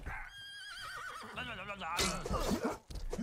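A horse in the medieval video game Rustler whinnies with a wavering, shrill neigh, followed by snorting and a busier burst of sound, all fairly quiet.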